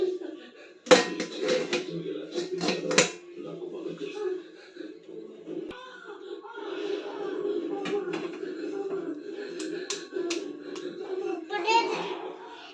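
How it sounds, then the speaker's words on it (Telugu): A metal plate for steaming Andhra idli set into the pot, a sharp clatter of metal dishes near the start, followed by a voice talking over faint kitchen sounds. "కదా ఇడ్లీకి ఈ ప్లేట్ పెట్టాలి"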